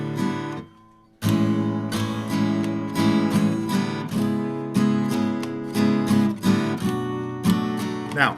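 Guitar bar chords strummed slowly in a steady series of ringing strokes, closing with a final upstroke; close and loud with no talking.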